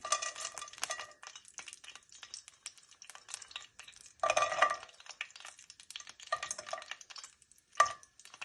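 Nuts fry lightly in desi ghee in a pan for suji halwa, heard as quiet rattling and clicking stirred through the pan in irregular bursts, with one louder clattering moment midway.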